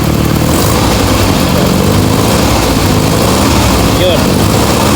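Toyota 5K engine with a ported vacuum advancer, running loud and close with a steady rough idle and a brief rise in revs near the end, a voice speaking over it.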